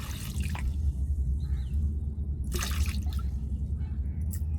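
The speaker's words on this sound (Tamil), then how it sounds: "இப்போ தண்ணி சேர்த்துக்கிடுவோம்" Water is poured into ground coconut paste with garlic and turmeric for a coconut rasam in a home kitchen, giving soft trickling and a couple of brief splashes over a steady low hum.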